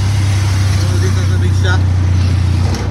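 An auto rickshaw rides over a bumpy road, its engine giving a loud steady low drone with rattling throughout, while people talk over it.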